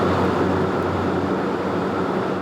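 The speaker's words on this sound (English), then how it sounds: "That's the sound of one of St. Louis's 13 data centers listed inside the city limits." Steady low machinery drone from one of St. Louis's 13 city data centers, a constant broadband rumble with hum tones, loud and unbroken throughout.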